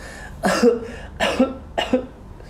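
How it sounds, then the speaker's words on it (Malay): Three harsh coughs, close and clear, evenly spaced about a second apart. "Saya batuk."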